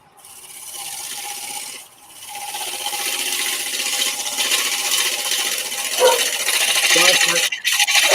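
Wood lathe turning with a chisel held against the spinning workpiece, a steady close scraping and rasping that runs for several seconds with a short dip partway through, no talk.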